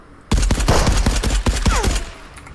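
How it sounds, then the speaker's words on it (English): A Bren gun fires in the video game Marauders, a loud, close burst of about a dozen rapid shots with heavy low thumps, followed by a brief trailing tone. "that guy's got a fucking Bren gun"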